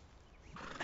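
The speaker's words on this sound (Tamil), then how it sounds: "குதிரை பிரஷ் பண்ணி விட்டேன்." A horse in the video game Red Dead Redemption 2 gives a short, quiet whinny with a few soft hoof sounds, rising slightly toward the end of a brief moment.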